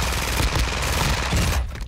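Rapid, loud bursts of fire-shotgun gunfire in Call of Duty: Modern Warfare 2, close and overlapping, ending abruptly with no talk.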